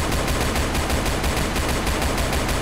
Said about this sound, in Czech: Střílí pistolí.